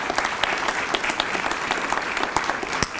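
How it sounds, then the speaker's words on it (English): An audience at a library branch wall-breaking ceremony bursts into dense, continuous applause, many hands clapping together in a steady, fairly close wash of sound. "So I'm going to ask you to give them a round of applause for all their support that they've given us."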